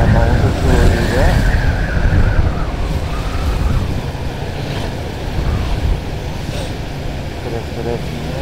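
Road traffic on a Java highway between Malang and Blitar, with a bus and several trucks being overtaken. Loud, continuous wind buffeting and engine rumble fill the whole stretch.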